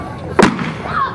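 A single loud blank-fired gunshot cracks out during a staged shootout at a Wild West show, a sharp burst with a short ringing tail amid outdoor crowd noise.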